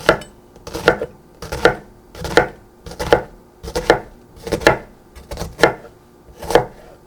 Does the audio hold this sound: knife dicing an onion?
yes